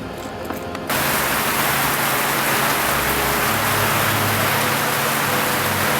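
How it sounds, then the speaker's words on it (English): Heavy tropical downpour from a cyclone, a dense, loud roar of rain that sets in abruptly after a second and continues steadily without letup. "This downpour is so heavy it's literally cut our carrier level in half and taken us off air for the moment."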